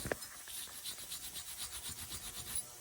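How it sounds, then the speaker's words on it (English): Brass brush scrubbing the metal body of a Mikuni round-slide motorcycle carburetor, a steady rhythmic rasping back-and-forth, about a dozen strokes, close and fairly quiet with no talk. "it really pays to have the brass brush because as you can tell, we're not scratching up the carburetor body"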